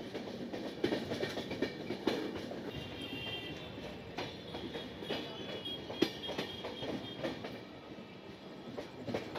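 The Saraighat Express runs on the rails, with a steady rumbling rattle, rhythmic wheel clacks and occasional sharp knocks, heard from inside the moving train at moderate volume.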